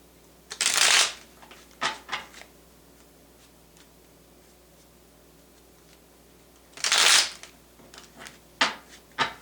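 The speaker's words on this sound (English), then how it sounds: "One more shuffle for Libra." Two bursts of tarot cards being riffle-shuffled, each followed by a few soft taps and clicks as the deck is squared, with quiet pauses between.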